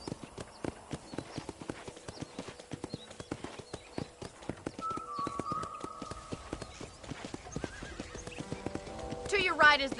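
Hooves clip-clop in a quick galloping rhythm in Red Dead Redemption, with a horse neighing near the end and voices talking underneath.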